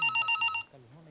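An old-style telephone bell rings in quick bursts, loud and close, then stops as a voice begins speaking.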